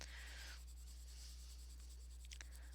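A pencil colouring on thin paper not made for colouring, a faint, steady scratchy rubbing of graphite close by over a low constant background hum, with a couple of small taps near the end.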